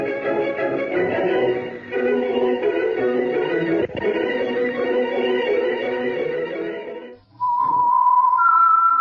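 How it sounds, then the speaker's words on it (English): A sustained whistled melody with tonal, harmonic notes fills most of the clip, then a short pause and a single high, steady whistle tone, the theme of the radio program The Whistler. "That whistle is your signal"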